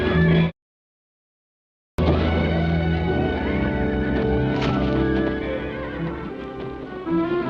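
Ornery rodeo bronc horses whinny and neigh loudly, one brief call cut off by a short silence, then a long stretch of overlapping neighs with a few hoof clops.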